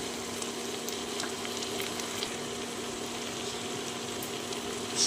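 Mutton keema with garlic-ginger paste, cumin, dried chili paste, turmeric, Kashmiri chili powder and chopped tomato fries in a pan, a steady even sizzle with occasional small pops and clicks, close and without talk.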